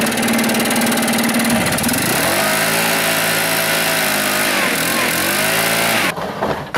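A lawn mower engine, used on a lawn care crew, catches after a short crank and settles into a loud, steady running drone close by, with the pitch shifting as the throttle changes before it cuts out abruptly at the end.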